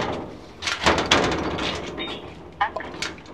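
A door opens with rattling and scraping knocks amid background street noise, a few clattering impacts spread over a couple of seconds.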